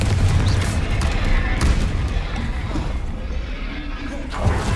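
Confringo blasting spell explosions in the Hogwarts Legacy video game, heard as loud, continuous booming blasts and deep rumbling impacts that run through the whole stretch with no pause.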